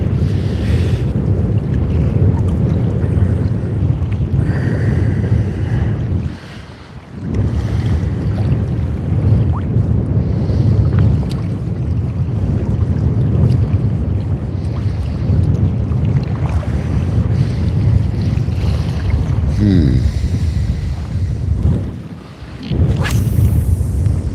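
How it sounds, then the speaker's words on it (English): Strong wind buffeting a microphone while kayak fishing for bass on open water, a loud continuous low roar with gusty swells and a couple of short lulls, no talking heard. "That wind's got up a bit, you know."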